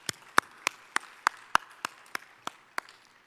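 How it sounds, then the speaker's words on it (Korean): At a Korean church youth worship service, a congregation welcomes new members with crisp claps in a steady rhythm, about three per second, sharp and close, with no voices. "다 함께 힘찬 박수로 환영하겠습니다"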